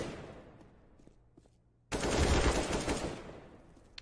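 Counter-Strike gunfire on the Mirage map: a quiet stretch of scattered faint noises, then a sudden loud burst of rapid automatic fire that stays dense for about a second before tapering off.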